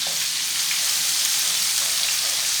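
Steady, loud sizzling of spices frying in hot oil for a moong dal tempering, a bright crackling hiss that holds evenly throughout with no talking.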